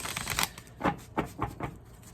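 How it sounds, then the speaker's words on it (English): Light Seers Tarot cards are shuffled by hand in a few quick, crisp riffling bursts, close and fairly faint, with short pauses between them and no talking. "I'm going to shuffle a few times here"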